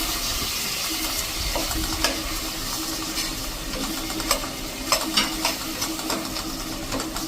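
Chopped tomatoes and curry leaves sizzle loudly in hot oil, a dense, steady hiss close up, with occasional scraping stir clatters rising above it.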